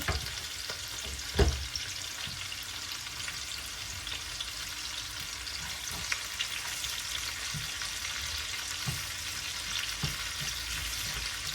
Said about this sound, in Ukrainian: І все перемішую.